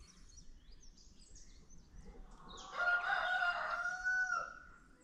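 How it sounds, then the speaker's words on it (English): A rooster crows once, loud and drawn out, over a soft background of distant birds and ambient hum. "And roosters."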